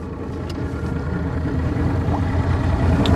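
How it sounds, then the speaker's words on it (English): A steady low outboard motor drone runs throughout, idling close by during a boat launch, with faint water and background noise. "make sure the motor starts good"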